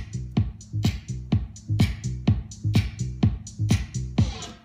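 A dance track plays from a DJ turntable at 126 BPM, with a steady four-on-the-floor kick and crisp hi-hat hits repeating in a tight, even rhythm, clear and close.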